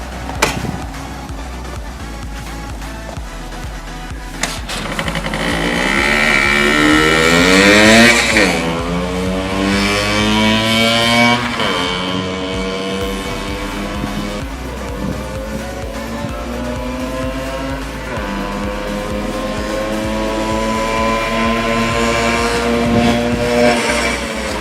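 A 1979 Yamaha DT50 motorcycle under restoration is bump-started and revved. Its engine whines loud and close, climbing and falling in pitch through repeated surges over nearly half a minute, with no voices.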